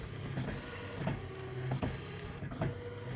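A WiFi-connected printer running a print job, whirring motor and mechanical feed clicks repeating in short bursts as the page moves through, close and steady, no talking.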